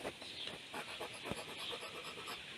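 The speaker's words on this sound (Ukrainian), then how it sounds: "Портянка, ти собака моя любимая" A dog pants rapidly and steadily, with quick rhythmic breaths close to the listener over a hissy, noisy background.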